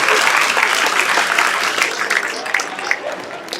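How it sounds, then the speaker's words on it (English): A crowd bursts into dense applause after a round of an Overcooked video game competition. The clapping is loud and close at first and thins slightly toward the end. "Round of applause."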